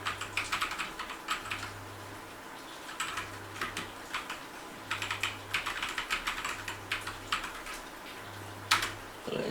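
Rapid keystrokes on a computer keyboard while an IP address is entered, in uneven bursts of crisp clicks over a steady low hum, close and clear with no talking.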